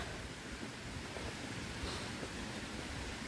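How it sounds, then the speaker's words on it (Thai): A steady, loud rush of falling water from a natural waterfall in Sweden roars on without a break, with no voices present. "ตรงนี้เขาเรียกน้ำตกสีเงิน"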